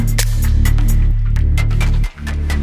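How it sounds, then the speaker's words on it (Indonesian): A hair dryer blows steadily while drying hair in a barbershop, a loud droning motor hum with a brief dip near the end, heard without talk. "kita keringkan rambut dengan hair dryer"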